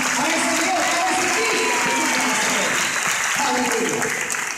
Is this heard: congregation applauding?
yes